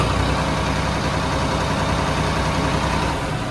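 A Swaraj tractor's diesel engine runs steadily and loudly up close, a dense continuous rumble with no speech over it.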